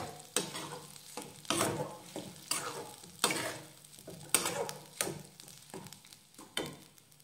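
A ground masala paste for patvadi rassa bhaji sizzles in a pan while a spoon scrapes and stirs it in steady, regular strokes, close and quiet.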